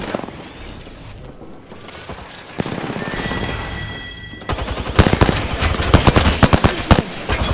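Rapid video game gunfire in a first-person shooter, bursts of automatic shots building from scattered pops to dense, loud repeated volleys in the second half, with no talking.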